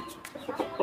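A Rhode Island Red rooster in breeding condition gives a few short, soft clucks close by, faint and brief with no talking.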